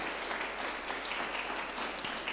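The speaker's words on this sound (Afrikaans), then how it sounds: "Gee 'n hande klap vir die Here." Steady, dense applause from a crowd, continuous and even throughout, with no pauses.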